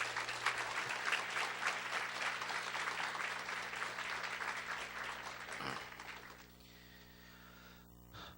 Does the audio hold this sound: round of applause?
yes